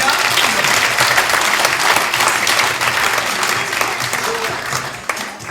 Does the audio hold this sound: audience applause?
yes